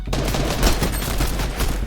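Rapid, continuous automatic gunfire from a shooter video game, dense and loud throughout the short burst with no pauses.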